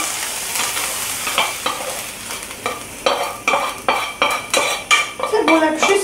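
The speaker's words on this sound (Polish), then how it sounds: "I przekładam zrumienioną cebulkę" A spoon clatters and scrapes against a cooking pot as browned onion is moved in for red pepper soup, giving a series of sharp metallic knocks with faint sizzling underneath and no voices.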